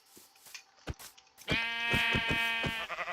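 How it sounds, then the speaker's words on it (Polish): Sheep bleating in a survival video game, a few soft sounds at first and then one loud, sustained, wavering bleat close up, with no talk over it. "O, owca, widzicie? Dwie owce są białe."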